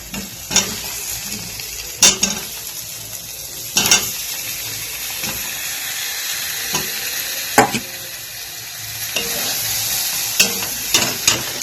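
Potatoes stir-fried in a spice masala that has already released its oil, a soft continuous sizzle broken by several sharp scrapes and clanks of the spatula against the pan at irregular intervals.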